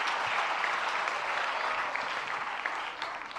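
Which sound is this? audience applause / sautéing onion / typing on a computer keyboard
audience applause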